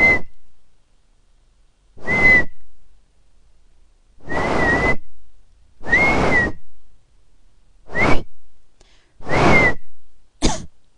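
A person whistles several separate short notes with long silent gaps between them, close and clear, alone in a quiet room.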